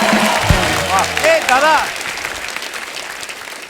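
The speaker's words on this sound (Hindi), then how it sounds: "जोरदार तालियां हो जाए मेरे भाई के" Studio audience applause on a Hindi comedy show, a loud burst of clapping that fades away over a few seconds while someone speaks over it.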